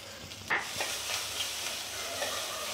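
Onions sizzling and frying in hot oil with curry leaves and turmeric for poha, a steady close hiss with a few stirring clatters near the start.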